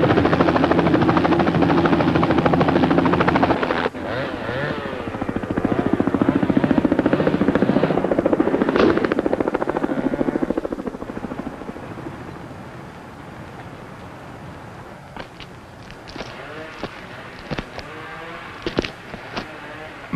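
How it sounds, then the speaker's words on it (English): A helicopter flies over steep mountain valleys on an inspection trip in the 1970s Kootenays, its loud rotor chop and turbine whine holding steady before fading into the distance. "choppers are the fastest way of doing inspection trips."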